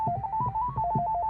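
A telephone ringtone from a thrift-store phone plays as a rapid, warbling two-tone electronic trill that alternates pitch in a steady repeating pattern, loud and close with no voices.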